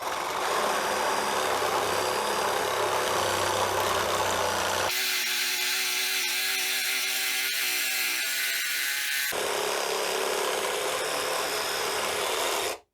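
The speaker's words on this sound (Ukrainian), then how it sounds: "За допомогою такої пилки можна з легкістю обрізати сад і навіть не втомитися." A reciprocating saw runs continuously with a harsh rasping buzz while pruning a garden, changing pitch and load partway through as it cuts, loud and close throughout.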